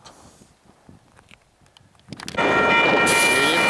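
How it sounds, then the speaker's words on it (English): A Union Pacific freight train passes through the Mojave Preserve, its roar swelling suddenly after a quiet windy stretch into a loud, sustained rumble with squealing wheel tones and clatter. "Union Pacific, getting ready to cross through."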